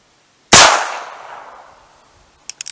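One sharp, loud gunshot from a Heritage Barkeep .22 LR revolver firing a Winchester Silvertip round, its report ringing out and decaying slowly, followed by faint quick clicks.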